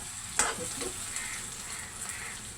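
Green chillies and curry leaves fry in hot oil with a steady, close sizzle, and a sharp crackle bursts as they first hit the pan.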